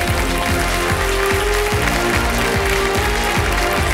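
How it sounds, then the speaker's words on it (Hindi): Studio audience applause welcoming a contestant on Kaun Banega Crorepati, a loud, continuous wash of clapping over a rhythmic musical beat, filling the whole stretch. "जोरदार तालियों से मैं चाहता हूं कि उनका स्वागत किया जाए।"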